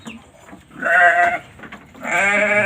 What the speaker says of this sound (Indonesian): Kambing sopas. Ini sopas yang kuping daplang, lor.